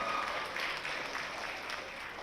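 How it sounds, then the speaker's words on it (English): An audience applauds poetry recitation competitors at the Poetry Out Loud 2018 event as they gather on stage, a steady, fairly quiet wash of clapping from a seated crowd throughout. "we can't forget to applaud our competitors"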